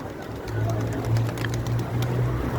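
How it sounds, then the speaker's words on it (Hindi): Pigeons of many breeds crowd a cleared field near a tree as they are fed, giving a steady low cooing murmur through the whole stretch, with faint background voices. "हर नस्ल के कबूतर है, हर नस्ल के।"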